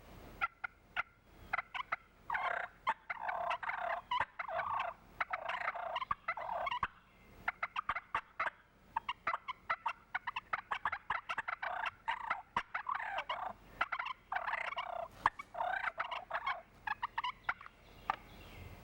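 Wild turkey flock calls imitated with push-button calls and a mouth call, three overlapping voices of rapid yelps and clucks repeating in bursts over nearly twenty seconds, close and fairly quiet.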